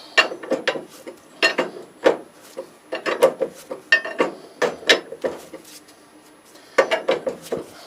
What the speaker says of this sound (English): We'll loosen off the axle nut.